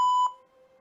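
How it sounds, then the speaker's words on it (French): A timer set for a hamstring stretching session gives one short, clear electronic beep, loud and close, then fades into quiet. "Je mets un minuteur pour qu'on puisse tenir 1 minute 30."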